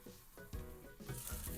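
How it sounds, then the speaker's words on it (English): Salmon fillets sizzle and fry in a lidded pan over medium heat, a faint, steady crackle with soft swells and no talking. "I'm gonna put the lid on and grill like this at medium heat for about 3 minutes or so."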